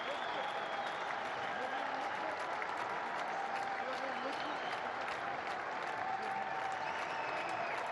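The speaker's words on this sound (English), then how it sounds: "They all applaud. They all stand up, admire the debutant." Cricket crowd at a Pakistan vs Australia ODI applauding a debutant's century, a dense, continuous roar of clapping with crowd noise filling the whole stretch, and a commentator's voice faintly audible beneath.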